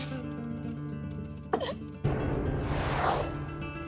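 A single sharp hiccup in a domestic family scene from a Bangladeshi TV drama, short and fairly close, rising out of a quiet room tone, followed by a louder broadband rustle.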